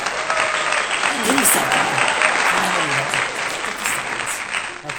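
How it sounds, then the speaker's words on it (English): Sustained audience applause from a crowd at a boxing cup event, steady and fairly loud throughout, with someone talking over the clapping. "You guys don't have to stop clapping every like 2 seconds."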